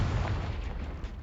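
A Confringo fire spell blasting in a Hogwarts wizarding video game battle, a dense, roaring burst of low rumble sustained across the moment, loud and close with no voices.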